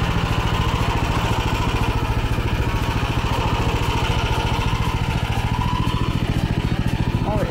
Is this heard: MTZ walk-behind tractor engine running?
yes